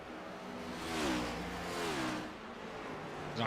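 Race car engines at Phoenix Raceway in an O.B. Builders Cup Series finale, one car slowing onto pit road; a droning engine rises and falls in pitch over a continuous track roar, with a sharper burst near the end.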